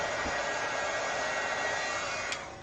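Hair dryer blowing steadily on a coat of gloss spray, a continuous close whooshing roar that holds throughout and fades slightly at the end.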